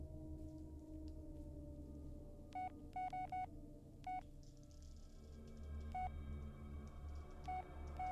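A mobile phone in the Blair Witch video game gives off short, sharp electronic beeps in an irregular series over a low, steady ambient hum, with no talking.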